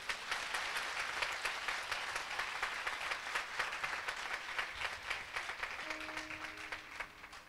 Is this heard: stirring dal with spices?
no